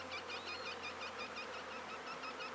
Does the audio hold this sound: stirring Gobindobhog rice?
no